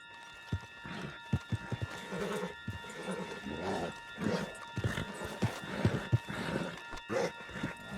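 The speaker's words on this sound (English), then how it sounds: "Put Strauss on the back of John's horse, and let's get out of here." A horse gallops in Red Dead Redemption 2, with uneven clip-clop hoofbeats and occasional whinnies over a steady game soundscape with faint tonal hum.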